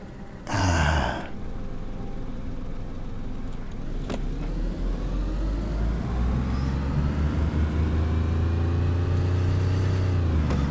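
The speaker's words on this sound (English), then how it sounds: "Oops, I kind of over-revved the car." An idling car engine in the DayZ video game revs up after a brief burst of noise and climbs steadily into a strained, over-revved drone that holds loud and rising, then drops back near the end.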